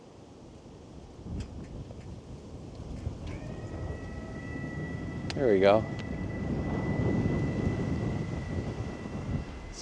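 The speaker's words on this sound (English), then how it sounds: "It's so windy out today." Steady roaring wind gusts buffeting the microphone throughout outside a mountain cabin, with a brief spoken phrase and a rising whistle-like squeal in the middle.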